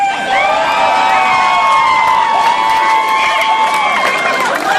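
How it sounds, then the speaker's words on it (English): Wedding guests break into loud, sustained cheering and applause after a reception speech, a dense close crowd roar with whoops and shouts lasting several seconds. "Round of applause."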